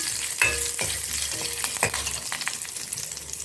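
Fenugreek seeds and crushed curry leaves roast in a hot pan for sambar, with a steady close sizzle and several sharp scraping stirs of a spoon against the metal.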